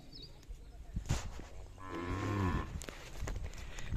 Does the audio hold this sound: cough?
no